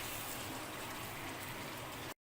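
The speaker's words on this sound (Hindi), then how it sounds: "तो मसाले को फ्राई होते हुए 1 मिनट हो चुका है" Korma masala frying in a pan for chicken korma, a dense, steady hiss and crackle of sizzling heard close and alone before it cuts off abruptly.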